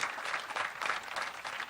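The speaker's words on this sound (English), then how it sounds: "can I get a round of applause for these brilliant artists who have come today" Brief burst of audience applause for a panel of artists, many hands clapping in a dense, fairly loud wash with gentle swells.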